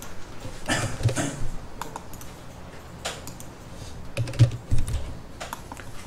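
Keys clatter on a computer keyboard as AutoCAD commands are typed in, a run of irregular clicks and taps with a few heavier strokes like the Enter key, close and fairly loud with no voices.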